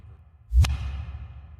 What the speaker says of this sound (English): here we have a reverse kick with reverb